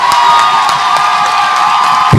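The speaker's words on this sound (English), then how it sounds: "Put your hands together, give her a round of applause and thank God for her being here with us." A large crowd at a peace rally in Los Angeles cheers and claps loudly and continuously, a dense wash of shouts, whoops and applause filling the whole moment.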